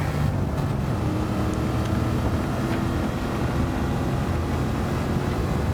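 A classic sports car engine in Gran Turismo 7, either a Shelby Cobra 427 or a Ford GT40, drones loudly and steadily at speed throughout, with a continuous rumbling roar and no talking.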